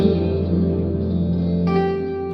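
A sustained electric guitar chord rings out inside a nuclear power plant cooling tower, drenched in long, spacious reverb, hanging in the air with a slight shift in tone partway through.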